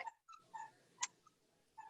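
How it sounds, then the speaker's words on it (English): A dog gives several brief, high squeaks and whimpers during a town planning commission meeting, faint and scattered with pauses between them, one a little sharper than the rest. "Excuse me while we stop the dog from squeaking."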